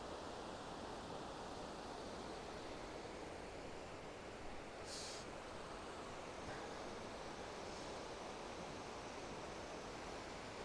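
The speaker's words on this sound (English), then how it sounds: "it's just starting to rain again now" Steady, loud rain and rushing water surround a tent in the Swiss Alps, a continuous broadband hiss with no break and no voices.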